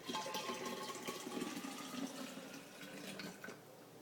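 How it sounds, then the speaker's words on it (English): Fresh homemade coconut milk pours steadily from a bowl into a measuring cup, a continuous close splashing, trickling liquid stream lasting several seconds with no talk. "I'm going to take the bowl, dump it into the measuring cup, add more into the container."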